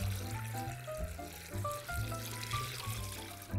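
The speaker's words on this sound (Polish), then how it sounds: "zalewamy ten roztwór zimną wodą" Cold water is poured into a sugar, garlic and liquid mixture for Christmas Eve borscht, a continuous soft splashing and trickling heard under steady low background music.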